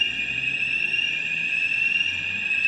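A building fire alarm set off by burnt toast from an old toaster gives a steady, unbroken high electronic tone, loud and continuous throughout with no talking.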